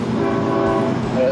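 A loud, sustained train horn blares close by, holding a steady chord with rumbling rail noise underneath.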